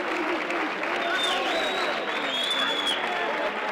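Football crowd at a CD Trabuco vs FC Malaga City Senior Primera Andaluza match reacting after a goal, a loud sustained wash of cheering, clapping and calls out with whistles riding on top.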